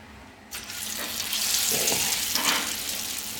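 Soggy green chickpea and split pea falafel mixture with coriander and parsley drops into hot oil, bursting into a steady close sizzle and bubbling that swells and stays loud, with no talking.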